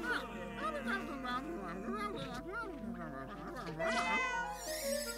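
A cartoon cat meows repeatedly in several drawn-out, wavering cries amid other animated character vocalizations, close and clear.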